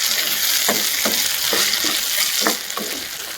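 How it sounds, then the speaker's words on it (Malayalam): Small onions sautéing with half a teaspoon of salt in a pan for a curry leaves curry, making a constant loud sizzle with regular rhythmic scraping stirs, close up with no talking. "നമുക്കൊരു 1/2 ടീസ്പൂൺ ഉപ്പ് കൂടെ ചേർത്തിട്ടൊന്ന് വഴറ്റിയെടുക്കാം."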